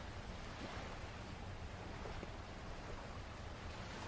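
Ocean waves wash onto a beach in a steady, faint, broadband rush, continuous and alone without distinct breaks.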